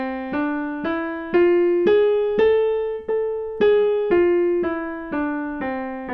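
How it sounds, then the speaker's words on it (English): A minor scale in harmonic form with the seventh note raised, played as about eleven separate sustained pitched notes that climb and then fall back down at a steady, even pace. The tone is clear and close, with no voices. "harmonic minor has a raised 7th note of that minor scale"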